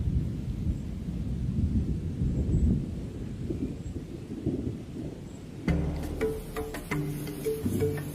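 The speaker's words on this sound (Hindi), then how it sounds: "दूर कड़कती बिजली जैसी लो फ्रीक्वेंसी की आवाजों को भी सुन लेते हैं" Low thunder rolls in the distance over the savanna under steady rain, a deep rumbling wash, followed by a few brighter tonal sounds near the end.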